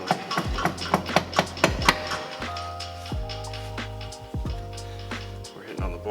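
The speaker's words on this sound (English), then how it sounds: "We're hitting on the ball joint that's preventing us from getting the axle to stick through." Metal hammer striking the ball joint of a BMW E46 xDrive front suspension to fit a CV axle, a series of sharp close metallic blows in quick rhythm, then pauses with lingering ringing.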